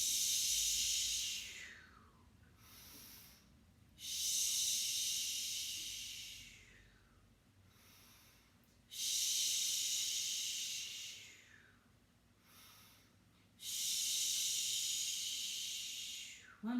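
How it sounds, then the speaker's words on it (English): A person breathes deeply during a guided exercise session, giving four long, loud airy exhalations spaced several seconds apart with quiet pauses between them. "Deep breath in."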